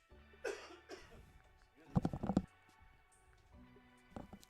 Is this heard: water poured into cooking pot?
no